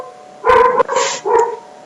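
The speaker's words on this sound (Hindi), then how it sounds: "आज मैं रिकॉर्डिंग कर रहा हूँ ना तो कुत्ता पूरा भौंक रहा है" A dog barks three times in quick succession, loud and fairly close, with short gaps between the sharp yelping barks in an otherwise quiet room.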